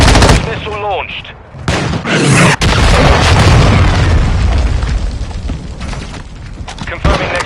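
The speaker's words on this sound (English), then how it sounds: "Missile launched." A missile strike booms in Call of Duty Modern Warfare 2 on PS5: a brief game voice callout, then a loud, close explosion rolling into sustained rumbling blasts and gunfire-like crackle.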